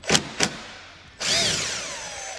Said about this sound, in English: There is right here, 8 mil bolt that we need to take out.